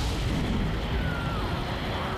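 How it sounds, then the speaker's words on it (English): A generator blowing up in the Godzilla PS4 game, a sustained loud rumbling explosion roar that holds steady with no clear breaks. "One generator has been destroyed."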